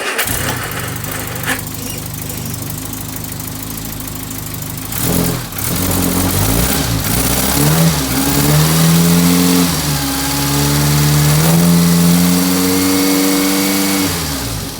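An Austin Allegro engine cranks and fires up after a cleaning, then idles and revs in rising and falling surges, loud and close, with no talk over it.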